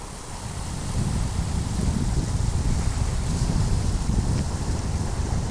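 Constant heavy rush and roar of surging water at the Kovalam river mouth where the Kaveri meets the sea, broad and steady with wind buffeting, no voices heard.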